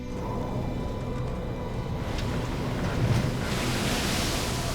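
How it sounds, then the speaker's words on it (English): Heavy sea waves crash over the bow of a bulk carrier in pounding seas, a continuous roaring wash of surf and wind that swells louder toward the end. "Now we have waves spilling over the bow"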